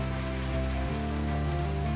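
Rain in the video game Necrobarista, a steady hiss of drops on a surface over a low sustained musical drone, continuous and even throughout, with no speech.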